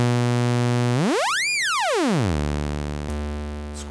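Oscillator one of a Micromac D synthesizer in sawtooth mode, a bright buzzy tone rich in harmonics that glides up and back down in one sweep, then holds steady, heard alone at close range.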